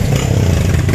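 A motorcycle engine rumbles loud and close with a steady low throb, heard on a family ride to a river resort alongside other motorbikes and tricycles.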